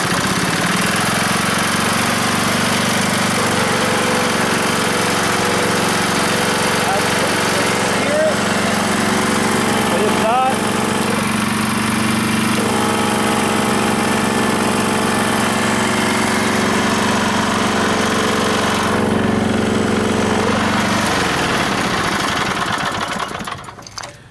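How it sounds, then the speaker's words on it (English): An engine drives a compressor, running steadily and loudly for nearly the whole stretch at a constant drone, with a brief shift in pitch partway through and the engine cutting off at the very end. "it was running the compressor, which means this thing is good"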